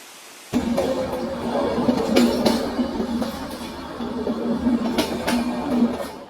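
A train rumbles steadily along a hill railway from Vizag to Araku, with a continuous low roar and faint rhythmic clatter of wheels, close and moderately loud throughout.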